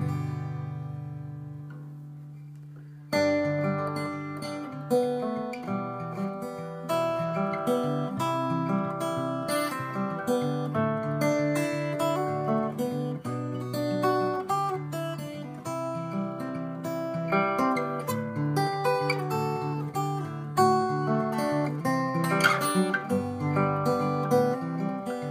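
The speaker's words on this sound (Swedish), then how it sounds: "Jag ska också spela på en Martin-gitarr så ni kan jämföra ljudet." Martin 000 acoustic guitar played solo at close range, a steady flow of plucked notes and chords ringing after a quiet opening few seconds, with no talking.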